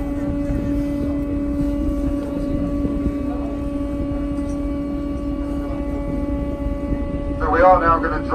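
A boat motor drives a hippo-viewing boat ride at Longleat Safari Park, giving a steady, close, droning hum throughout, with a voice speaking briefly near the end.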